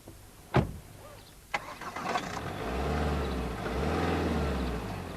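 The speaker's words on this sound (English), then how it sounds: "That still sounds like a diesel to me. A quiet diesel, but a diesel nevertheless." Ford Focus TDCi diesel car engine cranking and firing up after a couple of sharp clicks, then settling into a low, rumbling idle with a slight rise in revs, heard close and alone.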